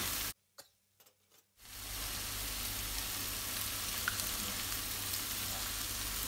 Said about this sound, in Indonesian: diurak-arik telurnya di sini